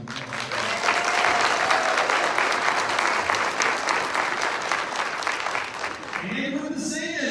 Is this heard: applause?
yes